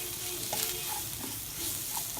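Chilli and turmeric powder are stirred in a pan for a chickpea curry, with soft scraping strokes over a low, steady sizzle and no talking.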